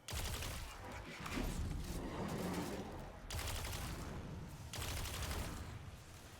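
Sustained bursts of rapid gunfire from a Destiny: Witch Queen firefight, loud and dense, in three long volleys separated by brief dips.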